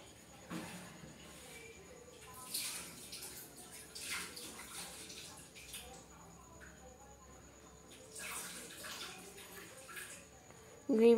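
Water is poured into a pan of paneer butter masala gravy after the oil separates, giving soft repeated splashing and gurgling bursts in a quiet kitchen, with a louder clatter at the very end.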